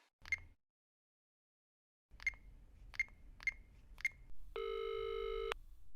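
A telephone is heard before a call: a handful of sharp, evenly spaced electronic beeps, then one longer ringing tone, close and clear against a quiet background with no speech.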